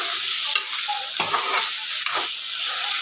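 Coconut paste gravy for a moong usal tipped into a hot pan, a loud steady sizzle broken by two scraping stirs of the spoon.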